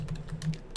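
Computer keyboard typing in a text editor, a quick run of close, crisp key clicks over a low steady hum.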